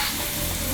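Beaten eggs hit a hot omelette pan with a steady, close sizzle and frying crackle, continuous and fairly loud for a brief moment with no talking.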